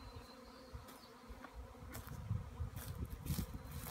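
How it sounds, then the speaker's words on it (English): A low, steady hum of many swarming bees buzzing together outdoors in a magnolia tree, with no one speaking. "wow, can you see all those bees up there?"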